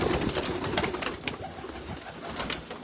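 A breeder pigeon coos repeatedly and close by, low rolling calls over a steady murmur of other birds and background noise, with no talk.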